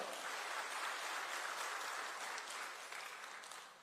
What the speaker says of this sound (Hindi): उमन के लिए बार आप मन सब जोरदार ताली बजावा